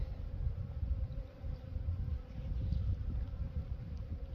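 A steady, dense buzz of many honey bees flying close around a hive in February, a continuous low drone with a faint hum line running through it.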